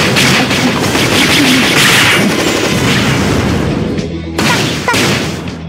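Loud gunfire and explosive blasts from the video game Closers pour out in a dense, sustained barrage, then thin into a few separate bursts before fading.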